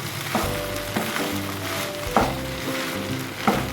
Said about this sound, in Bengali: আমি কিন্তু একটু জল দেবো দিয়ে মাছের মাথাগুলো দেবো যাতে একসঙ্গে একটা মাখো মাখো গ্রেভি তৈরি হয়